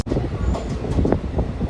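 The Tirupati–Tiruvannamalai intercity express, a short train of about ten coaches, rolls along with a loud, close, continuous rumble and clatter of wheels, with no talking.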